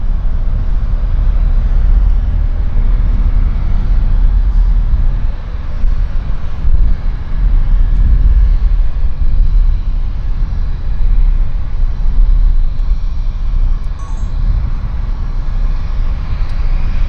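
WestJet Saab turboprop aircraft at Vancouver Airport, a loud, continuous engine roar with a heavy low rumble and gusty wind buffeting against the microphone.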